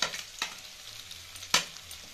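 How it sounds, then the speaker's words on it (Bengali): Grated ginger sizzling in a frying pan for chili chicken, with soft continuous frying hiss and two sharp scrapes of a spatula stirring, close and fairly quiet, no talking. "এবার আমি দিয়ে দেব গ্রেট করা আদা 1 টেবিল চামচ,"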